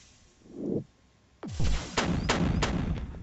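In a puzzle video game, a soft whooshing swell gives way to a sharp falling zap, then several bright, crackling plasma explosions go off in quick succession as a chain reaction, moderately loud with no talking.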